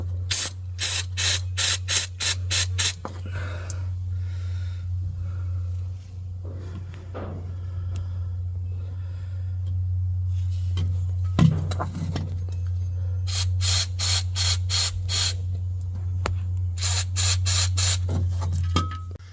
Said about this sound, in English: So I'll clean out my hole with a bit of brake cleaner